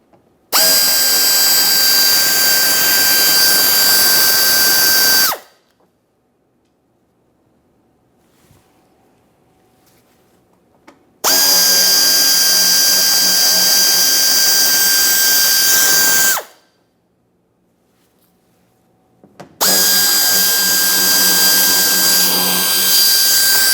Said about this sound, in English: We'll be making our way up along this area using a T15 to remove all 3 of these mounting bolt